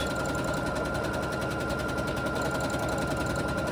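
A sewing machine stitching free-motion quilting, running in a fast steady mechanical patter, close and continuous without pause for the whole stretch.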